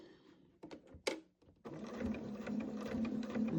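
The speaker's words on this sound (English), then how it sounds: "I think I'm going to start back stitching too when I stop." Sewing machine stitching a double rope jelly roll rug: a few soft handling clicks and knocks, then the machine starts and runs in a steady, close, rapid whirring stitch to the end.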